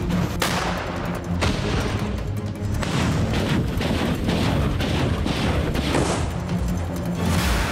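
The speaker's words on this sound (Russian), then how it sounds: "Выстрел!" Heavy artillery fire booms repeatedly, several sharp blasts scattered over a dense rumbling background, loud and somewhat distant, with no voices.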